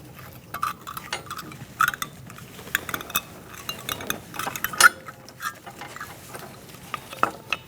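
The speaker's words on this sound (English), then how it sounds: "We're going to push this brake pad into the piston" Small metallic clicks and clinks of a rear brake pad being pushed into the caliper piston on a 2008-2014 Mercedes-Benz C300, scattered irregular taps and scrapes close up over quiet background.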